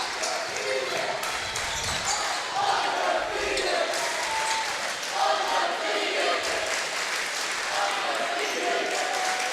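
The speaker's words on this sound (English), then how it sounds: "Union crowd yelling undefeated." Home crowd at a boys varsity high school basketball game chanting and yelling together in rhythmic bursts, with sneaker squeaks and ball bounces mixed in, loud and filling the gym.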